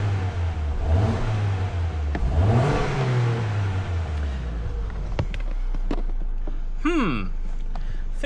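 Close and loud, a Ford Fiesta engine with fresh spark plugs fitted to cure a misfire revs up and falls back twice, then settles into a rough idle while a few brief knocks sound nearby.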